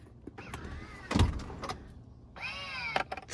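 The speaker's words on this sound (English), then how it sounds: "Open the rear doors." The rear doors of a 2025 Lincoln Aviator open with a soft latch clunk followed by a smooth electric whir, heard close and clear without any talking.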